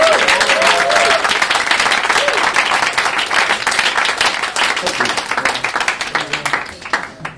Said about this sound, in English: How about a little round of applause for these guys?